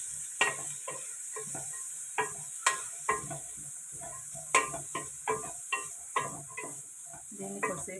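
Onions sizzle while frying in a pan, a constant high hiss broken by a string of sharp stirring clacks and scrapes at a steady, unhurried pace, with no voices.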